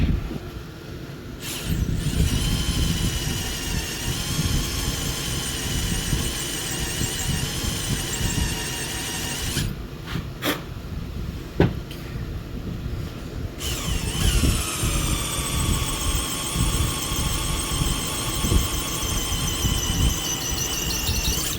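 A drill screeches loudly and continuously as a worn bit grinds into a metal carburetor fuel screw cap, its high whine pausing briefly mid-way before resuming at a slightly higher pitch.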